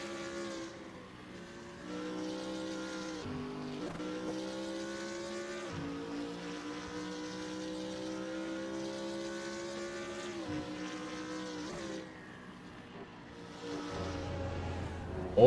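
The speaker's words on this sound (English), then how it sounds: "the F1 cars are practicing on full fuel" Formula 1 cars lapping the Japanese GP circuit in a racing video game: high, tonal engine whine that holds steady and shifts pitch with gear changes, continuous and fairly quiet.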